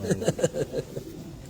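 Soft, throaty cooing from pigeons on a rooftop, a quick run of rounded pulses close by, fading toward the end.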